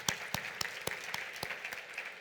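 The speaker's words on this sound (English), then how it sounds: "Please give them a big round of applause." Scattered applause from a conference tutorial audience thanking the teaching assistants at Cosyne 2019: sparse, distinct claps at a moderate, fairly quiet level, with no talking.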